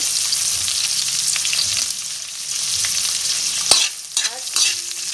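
Vegetables including ginger, green chili and red pepper sizzle in a pan for a Filipino escabeche dish while a utensil stirs them. The frying hiss is steady, with a few sharp scraping clacks near the end.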